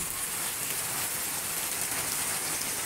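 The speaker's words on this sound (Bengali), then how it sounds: "তোমরা দেখতে পাচ্ছ বৃষ্টি হচ্ছে, বৃষ্টির পানিগুলা কিভাবে পড়ছে।" Steady midday rain in Pabna, Bangladesh, falling on trees and ground as an even, unbroken hiss that fills the whole moment without any voices.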